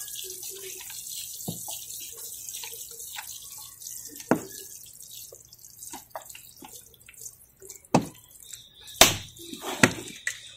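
Water from a container splashing and trickling onto soil over cucumber seeds in a pot, soft and close, with a few louder splashes and drips toward the end.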